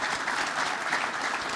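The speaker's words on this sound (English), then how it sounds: "Let's give Peter a round of applause and thank him" Conference audience at a Southwestern rail gathering breaks into steady, dense applause, a continuous wash of many hands clapping at even loudness.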